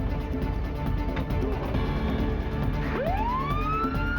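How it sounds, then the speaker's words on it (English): An ambulance siren on a road at an accident scene, loud over steady traffic rumble, with a rising wail sweeping up strongly near the end as it pulls away. "As the ambulance pulled away,"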